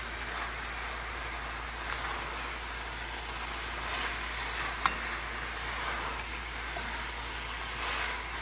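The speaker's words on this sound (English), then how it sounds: "next we're going to add the garlic and cook it a little bit" Minced garlic sizzles in a pan, a soft, steady hiss with a few faint crackles over a low background hum.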